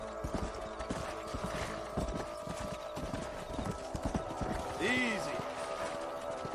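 Horse hooves clip-clop in a steady trot in the Red Dead Redemption video game on PS3, close and continuous, with a brief whinny near the end and someone speaking over the hoofbeats.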